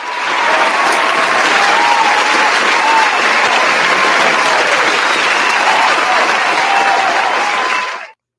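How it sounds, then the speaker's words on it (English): Audience applauding on a talk show, loud sustained clapping from a crowd that holds steady for about eight seconds before ending abruptly. "Give it a little clap for the harbor."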